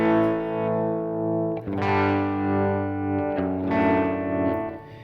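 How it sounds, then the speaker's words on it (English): Electric guitar with a light tremolo from a Kemper profiler in a country setup, sustained chords that pulse gently in volume, strummed twice with a soft, even wobble, close and clear with no talking. "That's just a light tremolo to kind of blend a little bit more."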